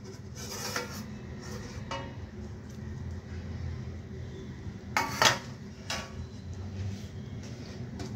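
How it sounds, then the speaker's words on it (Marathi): Jugad rice being stirred in a pot, with quiet intermittent scrapes and clinks of a spoon against the metal over low background noise. "एकदा व्यवस्थित ढवळून घेऊया"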